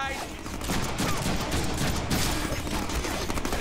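Rapid, dense gunfire from the video game Deadpool rattles in a loud, continuous fusillade of overlapping shots and bursts.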